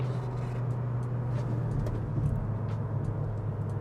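Steady low engine hum and road rumble inside a 2023 Mazda CX-3 Sport Luxe while driving, a continuous droning tone with no talking.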